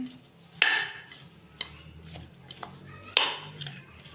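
Rice flour is worked into a mashed potato ball mixture, giving a few sharp clinks and scraping stirs of a utensil against a bowl, with quieter shuffling between them and a voice faintly in the background.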